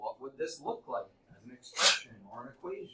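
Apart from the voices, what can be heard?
sneeze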